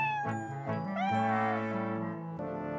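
A cat meows continuously in a drawn-out, wavering, whiny voice, close and clear, rising and falling in pitch across about three seconds with brief breaks between calls.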